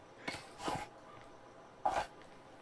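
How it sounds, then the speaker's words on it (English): Two quick sneezes, then a third a moment later, muffled and fairly close, over a quiet background hiss with no talking. "I had to sneeze again."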